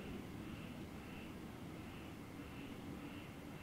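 An airplane drones faintly overhead as a steady, distant broadband roar, continuous and even throughout, with no voices.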